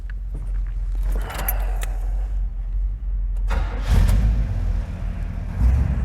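A 1972 Chevrolet Chevelle Malibu Sport Coupe cranks and fires, keys jangling first before the engine catches and settles into a loud, steady idle, close by with no talk.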